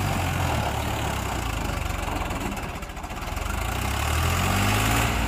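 A tractor engine runs nearby during village off-roading, a loud continuous low chugging idle with a rhythmic knock that dips briefly midway and then swells back up.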